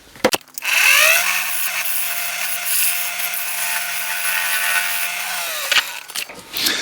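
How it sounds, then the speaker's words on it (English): A loud, continuous scraping cut of a skew chisel's heel against a wooden bowl spinning on a lathe, with a steady motor hum underneath, starting and stopping with brief knocks. "I'm going to use the heel of my skew to do the inside corner of that ring"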